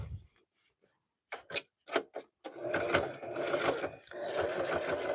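A sewing machine zigzag-stitches a fabric rag rug, first in a few short bursts, then running steadily with a rapid mechanical clatter close by, no talk.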